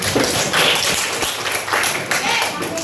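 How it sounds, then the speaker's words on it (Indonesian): A classroom group claps together, a dense burst of applause that fills the room and stays loud throughout. "Tepuk tangan buat semuanya."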